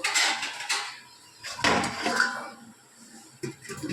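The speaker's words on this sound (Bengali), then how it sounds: "এবার আমি একটু ঢাকা দিয়ে দেব।" A lid set down over a cooking pot of stuffed bitter gourd rezala, giving a few close metallic clatters and scrapes of metal on metal, with a louder clank in the middle and a short knock near the end.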